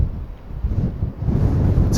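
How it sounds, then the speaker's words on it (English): Wind buffeting across a small mountain hilltop, low rumbling gusts hitting the microphone close and loud, swelling and easing in uneven surges with no voices. "It's quiet, it's just windy, all you're hearing is wind."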